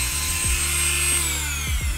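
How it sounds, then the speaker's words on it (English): Dremel rotary grinder cutting a small knob off a DIY case fan testing rig, giving a steady high-pitched whine that dips slightly as it bites, loud and close with no talk. "Instead of breaking myself, the grinder should do a better job."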